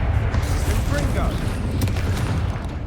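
A Confringo fire spell blast going off in the Hogwarts Legacy game, a dense, continuous booming roar with layered crackling impacts that holds loud for a few seconds amid combat effects.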